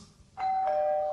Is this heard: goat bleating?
no